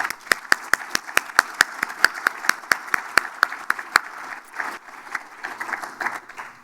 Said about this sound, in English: Please join me in a round of applause for Ted